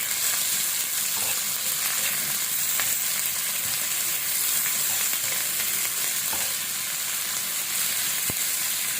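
Chopped onion and garlic fry steadily in hot oil in a pan, a dense, continuous sizzle close by with faint scattered pops and occasional light scrapes, no voices.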